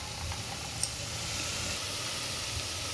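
Dried prawns fry in a pan for a tomato onion curry, giving a steady, even sizzle and hiss close by with no talking.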